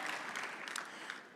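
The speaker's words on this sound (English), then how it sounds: "let's give a small clap for the Argentinian-based projects" Brief round of applause from a conference audience at an Ethereum event in Buenos Aires, a steady wash of clapping throughout.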